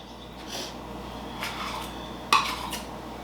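Semolina and butter are mixed in a bowl, giving a few soft scrapes and light clinks of a utensil against the dish, then one sharper metallic clank.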